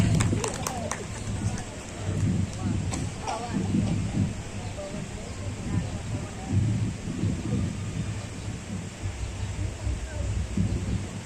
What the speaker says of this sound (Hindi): बादल गड़गड़ाहट हो रही